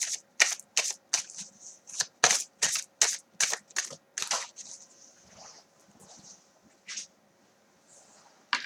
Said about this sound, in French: Attends, je reprends mes cartes.